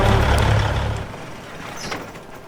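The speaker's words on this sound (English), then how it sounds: "Oop, I gotta shut the truck off." A truck engine in the Farming Simulator 25 game rumbles loudly and then shuts off, its low drone fading away to leave quieter background noise.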